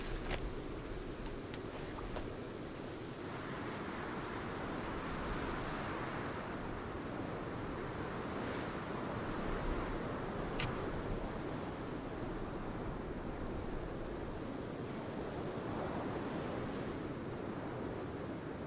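Steady wind and rolling ocean surf from the Sons of the Forest game form a continuous, broad wash of noise, moderately loud, with a few faint ticks near the start.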